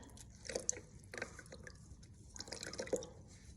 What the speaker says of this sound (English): So I'm gonna take this, wash them like that.